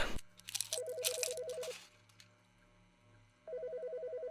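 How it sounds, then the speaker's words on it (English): A phone rings in Autopsy Simulator, a warbling electronic trill in two spaced bursts. Before the first ring there are rustling, crunching handling noises, then a quiet gap. "The fucking phone."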